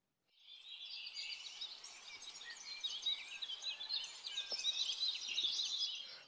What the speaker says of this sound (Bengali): পরের দিন সকালবেলা পাখিদের কিচিরমিচির আওয়াজে আমার ঘুম ভাঙল।